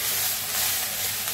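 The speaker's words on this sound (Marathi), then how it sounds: "असं मिक्स करून भाजून घ्यायचं।" Moth beans (matki) dry-roasting in a pan, a brief soft rustling hiss of beans shifting against the hot metal, steady and fairly quiet, with no voices.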